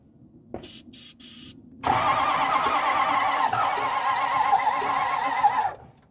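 A Ford 6.0 Powerstroke diesel engine that may be in poor shape cranks in several short bursts, then catches and runs loudly and roughly for a few seconds before cutting off.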